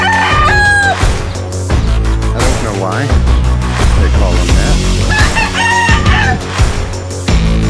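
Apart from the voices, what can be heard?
fighting roosters crowing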